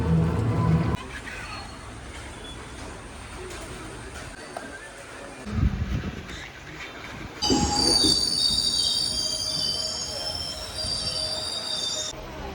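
A train rumbles along with loud, sustained high-pitched wheel squeal, rising sharply partway through and continuing steadily to the end.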